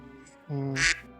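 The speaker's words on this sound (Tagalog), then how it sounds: "may bibe" A single short duck quack from the video game Ragnarok M Classic, a brief nasal call that ends in a sharper, brighter burst, heard clearly over faint background game sound.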